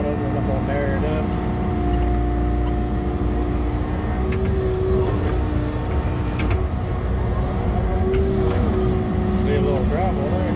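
A Kubota KX080 excavator cleaning out a drainage ditch, its diesel engine droning loud and steady, with hydraulic whines rising and falling and a few clanks, under near-continuous talk.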